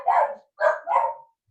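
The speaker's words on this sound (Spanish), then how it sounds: "Escuchan ruido y vienen, y si escuchan hablar empiezan a ladrar a las visitas" Household dogs bark close by, three quick sharp barks in a short burst, loud against an otherwise quiet room.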